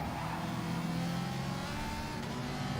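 Subaru WRX and Ferrari race cars in Gran Turismo drone with a steady, moderately faint engine whine, pitch shifting slightly as they run close together in a slipstream, no talk over it.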